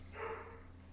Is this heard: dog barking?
yes